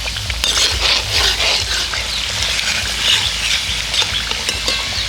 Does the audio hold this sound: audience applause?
no